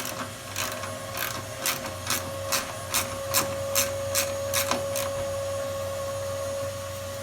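A ratcheting socket wrench works a 10mm bolt on a 2006 Toyota Sienna 3.3L during starter removal, giving about ten evenly spaced clicking strokes over a steady background hum and tone.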